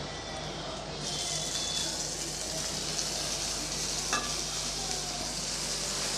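Ground tomato paste sizzling and frying steadily in a hot pan for an egg curry with coconut milk, a continuous hiss with a brief stir midway.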